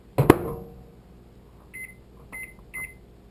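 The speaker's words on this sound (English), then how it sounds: "put it in the microwave." A microwave oven is set for an ivory soap experiment: a loud thump of the door closing, then a series of three short electronic beeps as the high power and time are keyed in. It runs quietly underneath.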